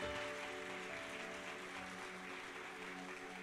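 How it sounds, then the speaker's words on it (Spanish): Church congregation applauding after a call from the pulpit, steady continuous clapping filling the room at an even level throughout, with faint musical tones sustained underneath and no clear talk. "Denle un aplauso a Dios"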